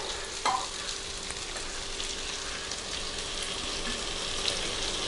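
Fennel seeds go into half-cooked Kerala-style chicken roast frying in a pan, giving a steady broadband sizzle with a faint stir clink near the start and no talking.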